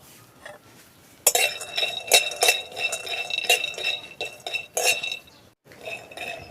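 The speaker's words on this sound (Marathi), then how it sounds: "आता चुलीवरती कडे ठेवून घ्यायची कढई आता गरम होऊ द्या उद्या गरम झालेलं आहे आपण एक कप शेंगदाणे भाजून घेऊया" A cup of peanuts dry-roasts in a metal kadhai on a wood-fired stove, giving close, irregular metallic clinks and rattling scrapes as they are stirred. Short pauses separate bursts of clatter, and no one speaks.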